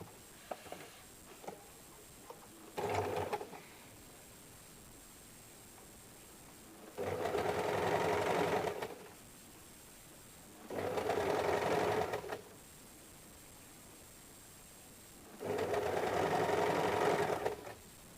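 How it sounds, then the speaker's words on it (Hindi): Sewing machine stitching the sleeve of a size 34 belt blouse, running in three or four steady bursts of a few seconds each with quiet pauses between, close and clear with no talk. "तो इस तरीके से मैं आपको इसकी स्टिच करके दिखाती हूँ।"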